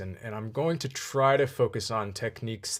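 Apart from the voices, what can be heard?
No distinct noise like a dog, phone or traffic.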